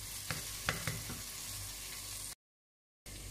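Ground spices such as salt, chili, turmeric, cumin and nigella seeds drop into a hot frying pan for chana dal with spinach, giving a steady close sizzle with a few soft stirring clicks and a short gap of silence.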